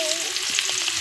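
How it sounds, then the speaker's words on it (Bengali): Prawns rubbed with salt and turmeric sizzle in hot oil in a pan; a steady, close frying hiss fills the whole second, with small crackles and pops. "তেল গরম হয়ে গেছে, চিংড়ি মাছটা দিয়ে দিচ্ছি।"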